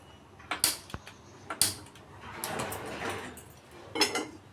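Metal wok set down on a gas stove in a home kitchen, with a few sharp clanks and knocks, the loudest near the start and end, over a soft background hiss.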